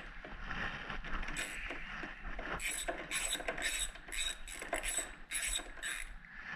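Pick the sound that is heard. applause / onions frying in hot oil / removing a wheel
removing a wheel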